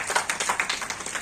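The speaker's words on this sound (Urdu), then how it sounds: "زوردار تالیوں سے آپ اپنی محبتوں کا ثبوت دیجیے۔" Applause from an audience at a New Year poetry and literature evening, a dense patter of many hands clapping in quick uneven bursts, loud and close, with no speech over it.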